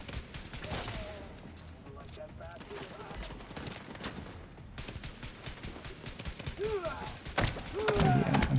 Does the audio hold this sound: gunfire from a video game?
yes